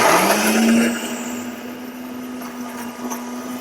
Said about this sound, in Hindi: मैं इसको मिक्सी में पीस कर इसका जूस निकाल रहा हूँ।